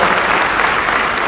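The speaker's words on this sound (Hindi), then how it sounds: "दिव्याश फाउंडेशन और अमृता फडणवीस जी के लिए एक बार जोरदार तालियां हो जाए।" A dense burst of applause from a large audience at a Yoga Day charity event, loud and steady throughout, with many hands clapping together.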